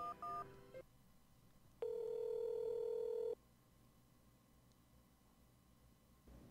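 DTMF keypad tones from a phone being dialed in the Replica video game, several short beeps followed by a long steady tone lasting over a second, with no voices.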